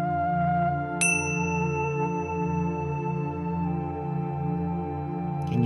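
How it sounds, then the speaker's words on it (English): A single metallic gong strike rings out with a long, shimmering sustain that slowly fades, alone with no talking. "Now I have a gong here, and it sounds like this."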